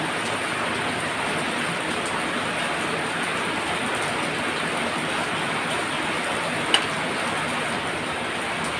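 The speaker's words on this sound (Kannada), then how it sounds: "ಭಾರಿ ಮಳೆ ಬರ್ತಾ ಉಂಟು." Heavy rain falls in a steady, dense, loud broadband roar that holds unchanged throughout, with one brief tick partway through.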